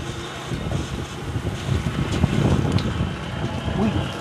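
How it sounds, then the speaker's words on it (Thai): A strong gust of wind sweeps past an outdoor hillside shrine at Phu Pha Lek, a broad rushing roar of buffeting across the microphone that swells and holds for several seconds. "ลมกระโชกมาอย่างแรงเลยท่านผู้ชม"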